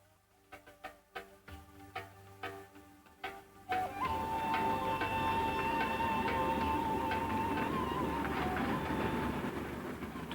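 A train runs on a railroad near a Turkish-built station dating from 1892, opening with a few sharp rhythmic clacks before settling into a loud, sustained rolling rumble with a steady whine above it.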